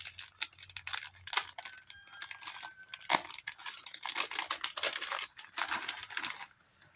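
Loose metal zipper runners (sliders) for bag making are handled and jostled together, making bright clinking and jingling that comes in irregular bursts, close and fairly loud.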